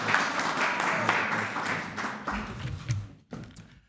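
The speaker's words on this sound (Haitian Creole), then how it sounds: "Let's give yourself a bigger round of applause." Clapping from an audience at a political campaign kickoff event fills the clip with steady, dense applause, with a few sharper claps and thuds near the end and some crowd voices mixed in.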